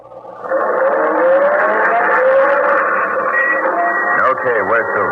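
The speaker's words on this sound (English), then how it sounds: "Then start the car and drive until I tell you to stop." A car engine starting and then revving as it pulls away, a loud, sustained motor whine in a vintage detective radio drama, with a sharp pitch swoop near the end.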